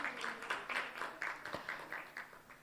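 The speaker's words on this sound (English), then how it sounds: "Let's give them a clap again." Faint, steady clapping from an audience at a Kenyan vice-presidential debate, a run of regular claps heard at a distance with no talk over it.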